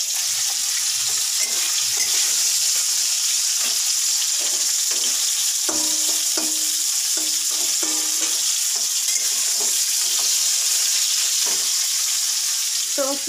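Mixed vegetables frying in a pan on a gas stove, a bright continuous sizzle with intermittent stirring clatter and utensil taps, close and loud, no voices.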